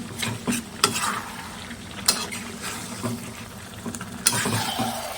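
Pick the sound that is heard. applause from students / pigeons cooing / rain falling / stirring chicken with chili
stirring chicken with chili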